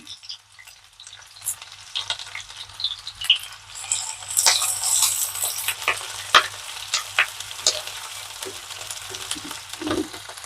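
Onions, green chilies and curry leaves fry in a pan with a steady crackling sizzle, punctuated by scattered pops and clinks of stirring, close and moderately loud with no talking.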